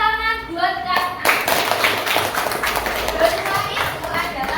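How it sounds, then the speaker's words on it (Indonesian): Children in a classroom clap together for a classmate, a brisk, dense patter of hand claps over about four seconds, close and lively, with a voice heard briefly at the start. "tepuk tangan buat Hasna."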